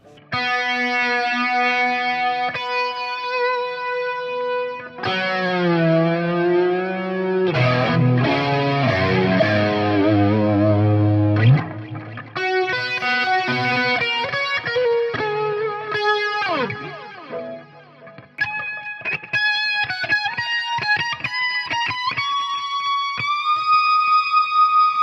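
Electric guitar played through a Fender Tone Master Pro on the Limelight preset: sustained distorted lead notes with chorus and long echoing tails, rising bends and a final held note ringing out, loud and alone with no talking.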